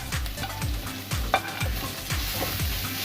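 A spinach dosa mixture with salt, turmeric and red chili powder is stirred in a pan, with repeated scraping strokes roughly every half second over a continuous soft sizzle.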